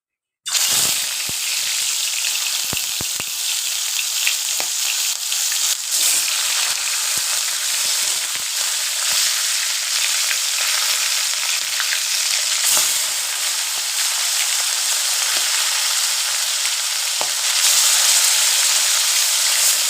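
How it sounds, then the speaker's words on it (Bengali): Pieces of boal fish fry in hot oil, giving a loud, steady, close sizzle that runs unbroken for the whole stretch with faint crackles and no voices. "সবকটা মাছ আমি ভেজে নেবো এইভাবে।"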